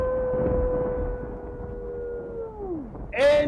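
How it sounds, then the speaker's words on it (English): A wolf lets out a long, wavering howl that slowly slides downward and fades, then a short, sharper cry rises near the end. "with the howling of the wolf"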